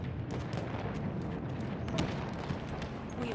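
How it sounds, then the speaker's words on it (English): Dense, continuous battlefield roar in Battlefield 1 as a dreadnought warship explodes, with rumbling booms and artillery-like blasts layered over steady low-frequency noise throughout. "look at that dreadnought exploding"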